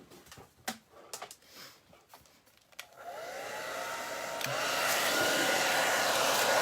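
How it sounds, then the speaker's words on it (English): A handheld hair dryer switches on partway through and roars steadily, growing louder as it dries crackle medium on a craft project, after a few quiet clicks and handling sounds. "Let me get my dryer."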